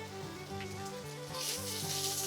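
Whole spices of cloves, cinnamon and peppercorns with a bay leaf frying in hot oil for a Maharashtrian kat vada curry, a soft sizzle that grows brighter and louder partway through, with a steady hum beneath.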